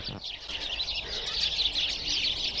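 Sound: small birds chirping

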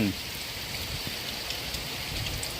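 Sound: rain falling at a boatyard

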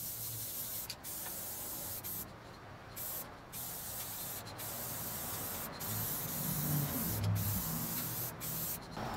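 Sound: spray can spraying crackle effect paint

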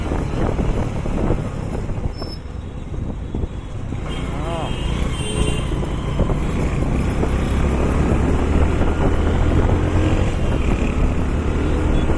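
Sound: heavy road traffic, many vehicles passing

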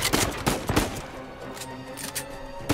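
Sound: gunfire in the video game Uncharted 4

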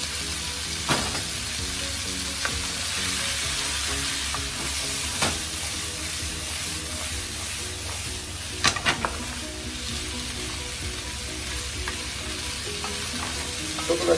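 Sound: stir-frying vegetables and potatoes for samosa filling

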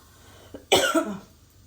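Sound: coughing from roasted pepper fumes

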